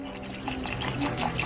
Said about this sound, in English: I'm gonna add some water in here.